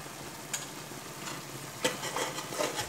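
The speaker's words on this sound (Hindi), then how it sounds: "मिक्स करते हैं।" A spoon stirs turmeric and chili powder into food in a hot pan with a soft, continuous sizzle and a few scraping strokes, with no talking.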